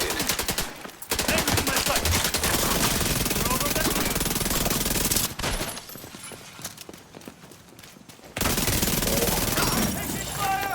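Dense, continuous automatic gunfire in The Division 2 shooter game, loud and rapid. It drops to scattered shots and game sounds midway, then the heavy firing returns.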